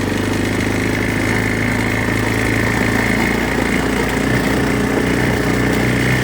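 A vehicle engine runs steadily in the rain with a low, constant drone and rumble, close and loud throughout, with no talking.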